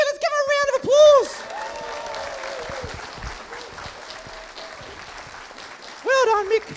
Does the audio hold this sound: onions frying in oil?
no